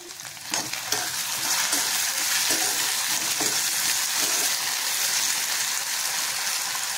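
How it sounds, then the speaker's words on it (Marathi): A medium-sized potato is stir-fried in a pan, giving a loud, continuous sizzle with scraping stirring strokes near the start, close and without any talk. "बटाटा घालून झाल्यानंतर तो परतायचा आहे"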